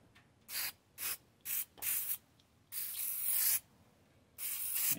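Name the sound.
aerosol penetrant spray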